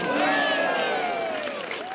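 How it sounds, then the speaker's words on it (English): Golf spectators clap and cheer around the green at a women's LPGA tournament final round, a steady crowd roar with scattered whoops lasting throughout, loud and close. "Always fun to hear claps at the green."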